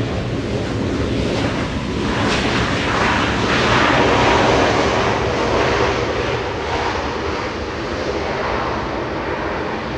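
An EVA Air airliner taxiing to the parking area at Los Angeles airport gives off a continuous, fairly loud jet engine whine and rumble that rises slightly midway, then holds steady.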